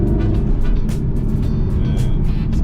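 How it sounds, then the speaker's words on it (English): Mercedes-Benz SLS AMG sports car engine heard from inside while driving through city streets in Kingston, Jamaica, a loud, deep, continuous rumble with steady low drone and passing traffic noise layered on top. "And the engine sound ridiculous."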